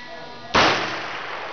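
Single close gunshot fired at a target on a gun range, one sharp loud blast that decays over about a second with no other sounds.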